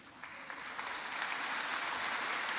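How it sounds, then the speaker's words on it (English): An audience at a national climate emergency summit applauds: a steady, full wash of many hands clapping that swells slightly and holds for a few seconds, with no voices over it. "you deserve a huge round of applause"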